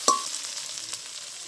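Cumin powder tipped into ginger garlic paste frying in a pan for a shrimp and pointed gourd curry, a sharp hiss at first, then a steady close sizzle with faint scraping, no talking.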